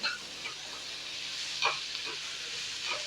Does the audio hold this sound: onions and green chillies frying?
yes